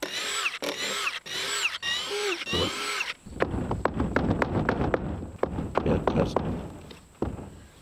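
A power drill removes screws from a wooden solar kiln door outdoors, with four loud, close bursts of whining motor, each rising in pitch. Clatter, knocks and shuffling follow afterward.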